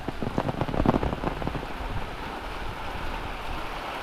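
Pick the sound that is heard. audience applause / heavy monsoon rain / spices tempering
heavy monsoon rain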